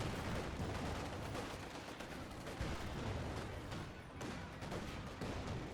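Dense, continuous StG assault rifle fire crackles across a Company of Heroes 2 battlefield, a noisy fusillade of overlapping shots and distant booms with no pause.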